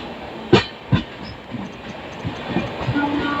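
A train approaches at Aadgaon station in India, making a low rolling rumble broken by a few heavy thuds and clacks, with no speech.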